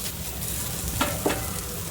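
Steady frying sizzle of semolina-coated potato slices on a hot griddle, with a couple of soft clicks as pieces are moved around.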